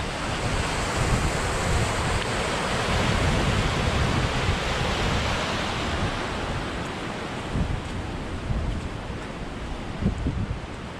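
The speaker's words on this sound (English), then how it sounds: "behind me is the Washburn River" The Washburn River in Washburn Valley flows close by with a continuous broad rushing roar, steady and loud for the whole stretch with no voices.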